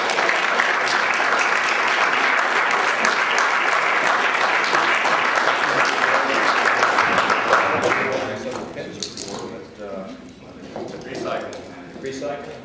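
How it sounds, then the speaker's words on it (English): Audience applause at a bill signing by the Ohio governor, a dense, loud round of clapping that fills the room for about eight seconds before fading into scattered claps and murmured talk. "Round of applause for all the people who were active."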